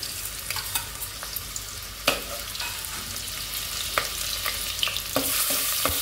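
Ginger garlic paste sizzles in hot oil in a pot for mutton biryani, a steady bright hiss broken by sharp clinks and scrapes of a spoon stirring, heard close and without talk.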